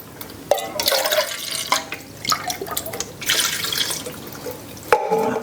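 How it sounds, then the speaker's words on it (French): Water poured into a pot of vegetarian chili on a home stove, a steady splashing pour with dripping and liquid sloshing, fairly close and alone without talk. "Et je vais rajouter un peu d'eau aussi. Environ une canne d'eau."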